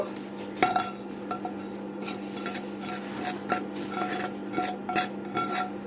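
Cooked chicken tipped into pasta in a pan and stirred, with repeated close scraping and clinking of a utensil against metal in an uneven rhythm over a low steady hum, no voices.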